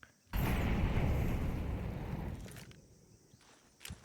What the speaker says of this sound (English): Beautiful flashbang.